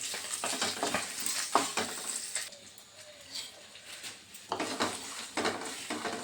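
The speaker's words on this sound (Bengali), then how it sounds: "আর এগুলো সব একসাথে মিশিয়ে আমি ভেজে নেব এখন।" Spices dry-roasted in a pan without oil for a sweet-sour jujube pickle, with a spoon stirring and scraping them around the pan in steady close strokes and a quieter pause midway. No voices.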